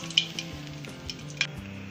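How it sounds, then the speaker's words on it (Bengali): Mustard and poppy seed paste sizzling lightly in a pan for a pabda fish dish, quiet frying with a couple of sharp clicks of a utensil against the pan. "হালকা করে আমি ভেজে নিয়েছি,"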